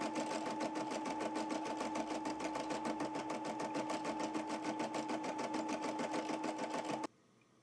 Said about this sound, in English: I'm just going to hit the start button again on my machine